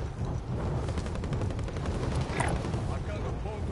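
Gunfire in the video game Warzone plays as scattered bursts and distant pops beneath a steady noisy game mix, with a voice talking over it.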